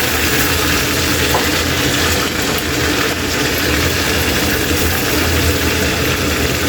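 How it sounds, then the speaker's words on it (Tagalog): Chicken-dish ingredients frying in oil in a wok, a steady dense sizzle that runs unbroken and fairly loud, with no talk. "ipa-fried na natin yung mga sangkap natin kay Eli"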